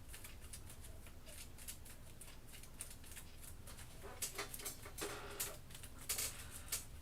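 A deck of pattern cards for the Kingdom Death: Monster board game being shuffled, a run of soft papery riffles and taps that builds into louder, sharper bursts toward the end, close by with no talking.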